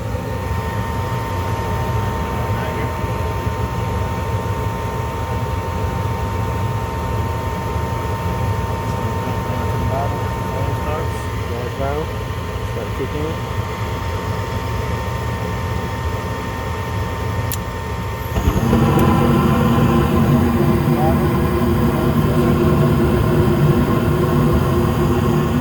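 A home furnace kicks on with a sudden jump to a louder, steady low roar and hum, over a continuous mechanical drone that has run throughout.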